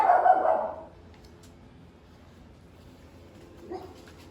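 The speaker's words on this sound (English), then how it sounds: "Sorry, that's my dog." A dog barks a few times close by in a workshop during a tractor rebuild, the burst in the first second, then near silence with a brief faint yip toward the end.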